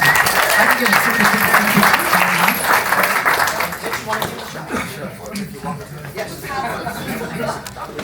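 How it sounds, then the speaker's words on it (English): Applause at a chamber of commerce gathering welcoming a new member, loud clapping that fades after a few seconds into chatter, laughter and talking voices. "Let's give him a big round of applause."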